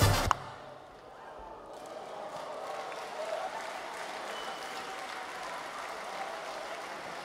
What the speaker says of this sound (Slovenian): dajmo jim še velik aplavz